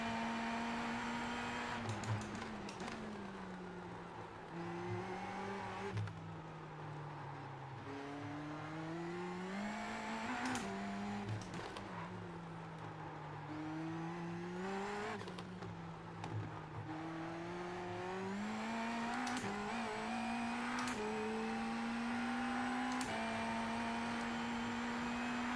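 A race car in the iRacing simulator drives on, its engine droning and rising and falling in pitch through gear changes and throttle shifts, loud and continuous with no talking.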